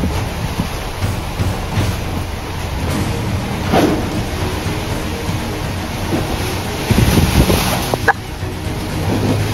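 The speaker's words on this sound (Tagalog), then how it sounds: "malakas ng hangin." Typhoon wind roars steadily with buffeting gusts against the microphone, mixed with a constant rush of floodwater; no voices.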